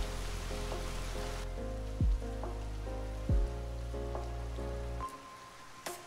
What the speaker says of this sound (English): The rain on the window makes the scene look realistic and nicer here.